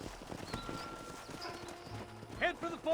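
Horse hooves clip-clop at a steady rhythm in the Western video game Red Dead Redemption on PC, set near a ranch, with character voices speaking over the hoofbeats.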